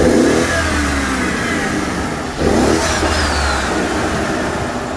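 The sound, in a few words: BMW 550xi F10 engine revving with dual intake pipes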